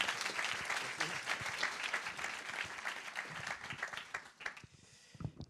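Audience applause fills an introductory speech at an innovation conference event, dense steady clapping from a sizeable crowd that thins and fades near the end, with no talk over it.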